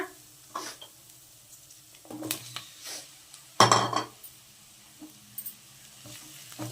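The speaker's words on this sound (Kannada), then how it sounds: "ಮಶ್ರೂಮ್ ಹಾಕ್ಬಿಟ್ಟು ಸ್ವಲ್ಪ ಚೆನ್ನಾಗಿ ಹುರ್ಕೊಳ್ಳೋಣ" Mushrooms tossed into a pan for mushroom fried rice, with a sharp clattering burst mid-way and scattered utensil clinks over a quiet, low sizzle.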